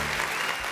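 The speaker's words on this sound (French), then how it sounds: "Applaudissez pour ça, c'est un futur bachelier." A crowd applauds a student in a studio or stage setting, a brief dense wash of clapping that stays even and full throughout.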